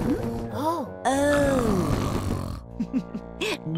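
Grandpa Pig, a cartoon pig, snores in a treehouse, voiced by an actor imitating snoring: several deep, drawn-out, groaning snorts with rising and falling pitch, loud and close.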